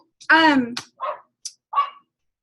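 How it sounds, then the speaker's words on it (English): Two dogs, one indoors and a neighbour's, barking in a short burst: a long yelping bark followed by several quicker, softer barks spaced a half-second apart, fairly close and loud with no talk over them. "And you get to hear my dog and the neighbor dog."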